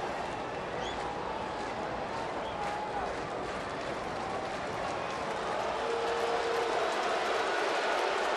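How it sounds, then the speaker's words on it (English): Unhappy crowd at a Dodgers at Reds baseball game in Cincinnati, a steady broad roar of many voices filling the stadium, continuous and fairly loud with no clear breaks. "Crowd here not happy at all."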